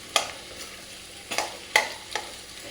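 Taro (arbi) sabzi fries in an open kadai, a quiet sizzle punctuated by four sharp spattering pops spaced unevenly, with no voices.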